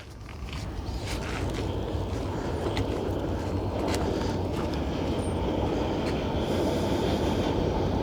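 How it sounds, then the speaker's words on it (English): A train rumbles past close by, a steady heavy roar of wheels on rails with faint metallic clatter, continuous throughout. "Trains."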